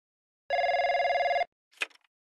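A telephone rings in the Trickcal Revive video game: a single loud, pure electronic ring of about a second, followed by a short rustling click.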